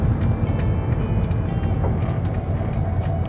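Honda HR-V GH4 first-generation SUV engine running in sport mode, with a steady low droning hum from inside the cabin, continuous and fairly loud, without talking.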